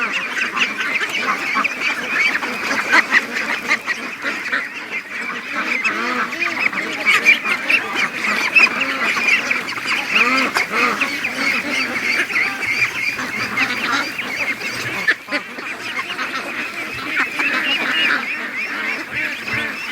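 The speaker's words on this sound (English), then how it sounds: "That's a mess of ducks." A big flock of young ducks quacking and honking nonstop, a dense continuous racket close by with no pauses.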